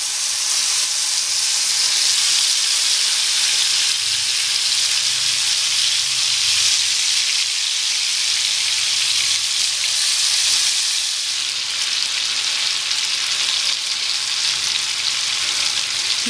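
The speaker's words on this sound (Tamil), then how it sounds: "நம்ம மசாலா பரட்டி வச்சிருக்கிற மஷ்ரூமை ஃப்ரை பண்ணிக்கலாம்" Masala-coated mushrooms fry in hot oil, giving a loud, dense, continuous sizzle and crackle that holds steady throughout, close up with no voices.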